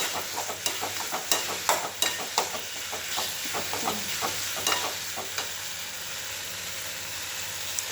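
Chili powder sizzles in hot oil while a spoon stirs and scrapes the pan in quick, irregular strokes, then the frying settles into a steady hiss.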